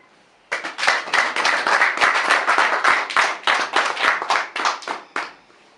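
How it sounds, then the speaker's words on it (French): Audience applause at a New Year's greetings gathering in Brussels, a crowd clapping loudly and steadily for about five seconds, then stopping abruptly. "je demande à l'assistance de vous applaudir"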